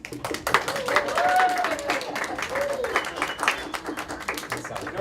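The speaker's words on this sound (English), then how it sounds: "Applause for the audience, please." Parents and children in the audience applaud after a youth guitar program performance at a YMCA, scattered quick claps pattering for several seconds while voices chatter and call out over them.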